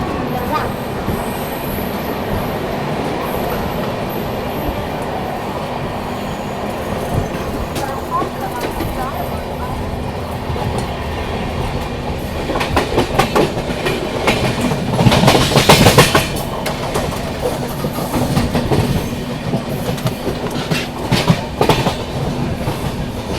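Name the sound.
Mumbai-Nizamuddin Rajdhani Express train running on tracks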